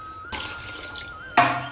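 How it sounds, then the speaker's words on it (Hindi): Water pours into a bowl holding 750 grams of rice, soaking it overnight for Garhwali arsa; a steady near splash runs alone, with a louder burst of pouring near the end. "ये 750 ग्राम चावल में मैंने पानी डाल दिया।"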